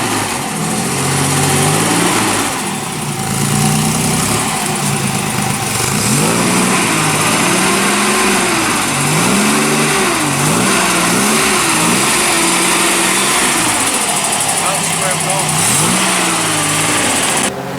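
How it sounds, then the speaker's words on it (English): A 1982 Ford Capri MKIII engine running rich, loud and close, with a steady rumble whose pitch rises and falls in a series of revs through the middle, running continuously with no talk. "Running really rich out of the right hand exhaust bank."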